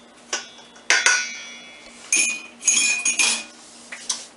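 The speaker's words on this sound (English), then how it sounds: "stick my fork in there and break the yolks of my eggs up" A fork pokes into a meatloaf mixture to break the egg yolks, producing several sharp metallic clinks and taps against a bowl in short irregular bursts, close and fairly loud with quiet gaps between.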